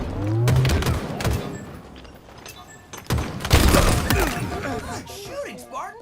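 Rapid gunfire bursts from the Halo video game, sharp cracks and fusillades in two clusters, loud and close, mixed with game sound effects and some voice.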